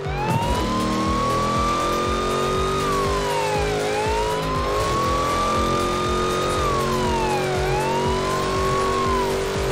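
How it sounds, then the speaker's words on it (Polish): A Ford Crown Victoria police car in Forza Horizon 4 runs with its siren wailing continuously in rising and falling sweeps over a loud, steady engine drone, with no talk. "Crown Victoria, proszę bardzo. Fajnie brzmi to auto, no i mamy klaksony, mamy koguty"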